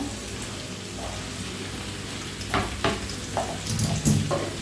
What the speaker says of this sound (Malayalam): ഇപ്പം ഞാനിവിടെ ബാക്കി എല്ലാ കഷ്ണങ്ങളും കൂടെ ഇതിലേക്ക് ചേർക്കാൻ പോവാണ്